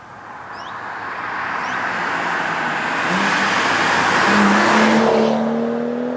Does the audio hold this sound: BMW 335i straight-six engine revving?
yes